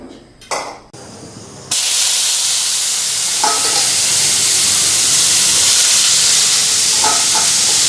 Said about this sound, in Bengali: এদিকে আলুটা দিয়ে দিলাম আলু ভাজাটা বসাই দিলাম